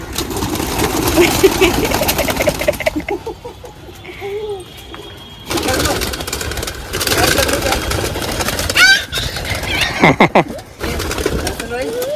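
Caged pigeons coo softly amid a noisy background with an idling engine hum and bursts of activity; the cooing is intermittent and partly masked.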